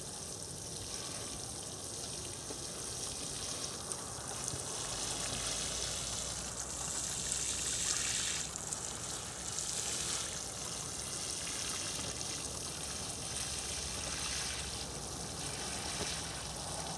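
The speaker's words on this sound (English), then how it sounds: "So now what I'll do, I'll water the cabbages in" A watering can pours water over newly planted cabbages on an allotment, a soft, continuous splashing and trickling that swells slightly partway through.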